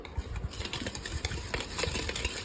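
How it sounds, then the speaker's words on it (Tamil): A spoon stirs sugar into cake batter in a bowl, making close, rhythmic scraping and clinking strokes in a continuous, slightly uneven pattern. "சுகரே அகைன் இப்போ மிக்ஸ் பண்ணிட்டு இருக்கேன்."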